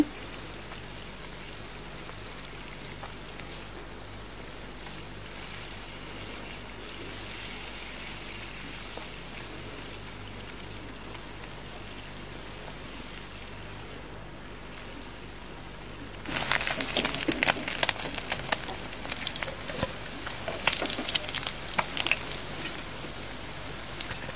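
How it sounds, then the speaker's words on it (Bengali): Small fish simmering in a pan give off a steady soft bubbling hiss, which turns into a louder, crackling sizzle with irregular pops once they are gently stirred and flipped. "ছোট মাছের মধ্যে বলক চলে এসেছে তো আলতো করে একটু নাড়াছাড়া করে দিচ্ছি"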